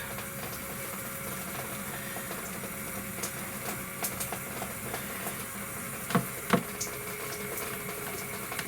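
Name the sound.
small off-grid shower pump running, pushing air out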